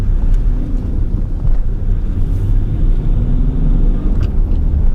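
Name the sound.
Land Rover Discovery 3 accelerating, turbo engine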